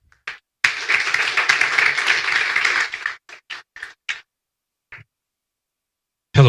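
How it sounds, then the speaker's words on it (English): Audience at a startup incubation pitch event applauding, a burst of clapping that lasts a couple of seconds, then trails off into a few scattered separate claps. "So a big round of applause to Bruno Fernandes from Pluggable AI."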